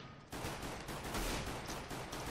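Continuous rapid gunfire in the Minecraft Mine-Strike shooter mod, a dense unbroken burst of shots that starts abruptly and stays steady, fairly faint and with no talking over it.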